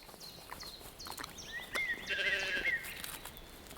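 Sheep of various sizes bleat on a juniper grazing meadow on the eastern shore of Lake Müritz in Germany, several overlapping calls at moderate distance, some higher and some lower, over faint outdoor ambience.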